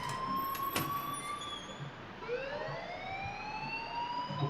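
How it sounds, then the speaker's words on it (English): A wailing alarm in the video game Life is Strange, rising and falling in pitch over a steady background hum, moderately loud and sustained. "please turn off that alarm since that's your job"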